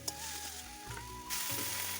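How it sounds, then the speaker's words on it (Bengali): Spice mix fries in oil in a pan, a steady close hiss of sizzling with a couple of shifts in intensity as it is stirred, quiet and continuous without voices. "মশলাটা কষিয়ে নেব"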